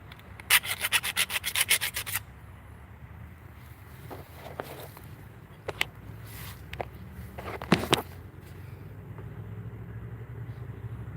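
Rubbing and scraping bursts as burrs are filed off the metal edges of a jon boat, with a quick rapid run of strokes early on, then scattered sharper scrapes against a steady low background.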